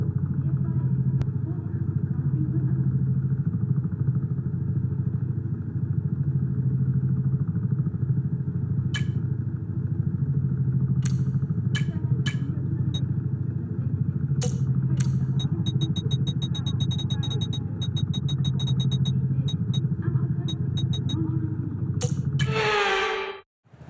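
F1 cars droning steadily through a formation lap at the Brazil circuit in the F1 24 video game, a continuous loud engine hum with clicks and clatter building toward the end.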